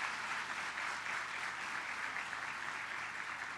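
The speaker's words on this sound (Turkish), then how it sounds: "Cumhuriyeti alkışlamak zorundayız." A crowd applauds steadily throughout a political speech at a nursery opening in Istanbul. The even, continuous clapping is moderately loud and has no voice over it.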